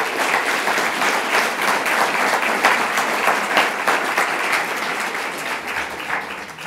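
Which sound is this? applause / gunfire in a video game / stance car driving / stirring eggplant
applause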